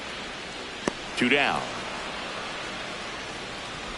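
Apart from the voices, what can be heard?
rain falling on stadium in MLB The Show 26 video game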